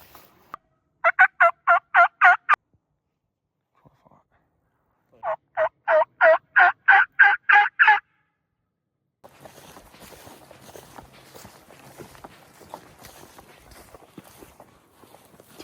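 Wild turkey gobbling in the field, two bursts of rapid rattling gobbles, each a quick series of loud, close calls, followed by faint rustling and footsteps.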